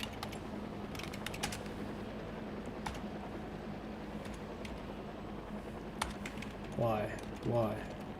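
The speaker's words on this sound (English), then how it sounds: "Let me type it in." Scattered clicks of typing on a computer keyboard, soft and fairly close, over a steady low hum and background noise, with a couple of brief voice-like bursts near the end.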